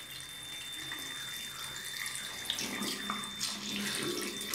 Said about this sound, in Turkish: Bu şekilde çıkarıyorum ve sıcak suyla yıkayacağım şimdi.